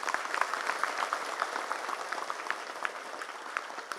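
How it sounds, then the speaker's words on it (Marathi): An audience applauds warmly for a birthday, steady dense clapping from many hands throughout, moderately loud with no talking. "सगळ्यांनी टाळ्या वाजवून त्यांना शुभेच्छा द्या."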